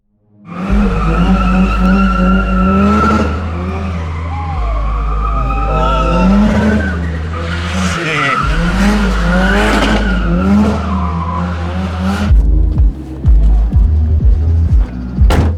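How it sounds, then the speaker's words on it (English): A car does burnouts with loud, sustained tyre squealing and skidding over a roaring engine that shifts pitch in steps. It runs continuously and close for about twelve seconds, then breaks into rougher, choppier revving. "just here for the burnouts"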